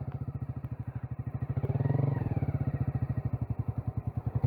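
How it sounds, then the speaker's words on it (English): A motorcycle pulls away as the clutch is let out with a little gas, its engine thumping in a steady, rapid rhythm up close, swelling briefly as it moves off, with no talk over it. "just let it out and give it a little bit of gas, and if you feel comfortable letting it go forward, then go ahead."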